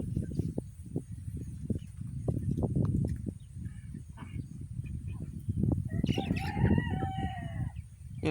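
Backyard chickens outdoors: a rooster crows once near the end over a steady bed of low clucking and scratching from the flock, moderately close, with no talk.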